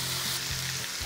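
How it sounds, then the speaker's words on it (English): Meat browns in batches on a hot pan for a Thai green curry, giving a dense, steady sizzle that is close and fairly loud, with no voices over it. "I'm going to cook this in a couple of batches on a nice hot pan."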